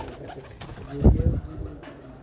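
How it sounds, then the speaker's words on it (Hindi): A black pigeon gives a short, soft coo close by, a low throaty call rising briefly above quiet background noise. "ये कबूतर बैठा है जी काला"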